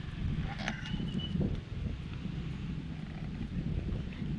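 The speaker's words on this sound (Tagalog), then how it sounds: "sobrang lakas ng hangin" Strong wind buffets steadily, a rough low roar of gusts blowing across the microphone with faint rustling, no voices.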